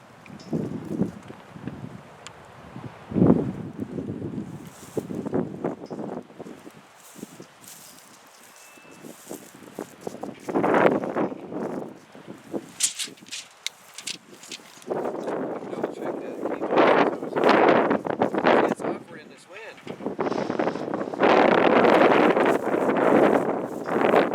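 Wind gusting outdoors at a homestead privacy fence, buffeting the microphone in uneven rumbling bursts that rise and fall, louder toward the end, with faint rustling between gusts.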